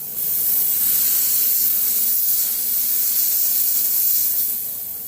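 A steady, loud spray-like hiss from rhodium plating at a jewelry and watch repair bench goes on without a break for several seconds, then eases off slightly at the end.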